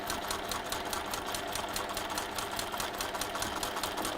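A sewing machine runs a seam at a steady, rapid stitching pulse, close and even throughout with no voices.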